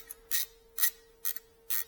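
Factory exhaust bolts coming off a BMW R NineT motorcycle, four short evenly spaced ratcheting bursts from a hand tool, close and fairly quiet, with a faint steady tone beneath.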